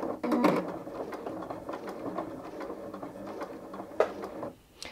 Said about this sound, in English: So now when I sew, the needle will finish in the down position.